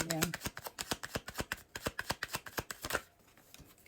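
Tarot cards shuffled by hand, a close, quick run of crisp riffling flicks in a steady rhythm that stops near the end, leaving quiet.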